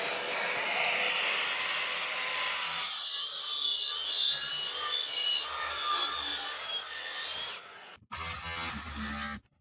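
A handsaw cuts wooden noggins for floor framing in a steady rasping stroke that continues for several seconds, then pauses briefly before a final burst of sawing.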